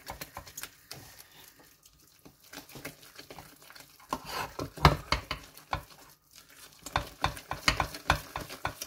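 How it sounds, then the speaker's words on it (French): Thick choux dough of boiled milk and flour being stirred hard in a pot, quiet scrapes at first and then rapid, loud, irregular slapping and knocking strokes against the pan. "Je rajoute la farine tout d'un coup et pas en deux fois. Et je mélange rigoureusement."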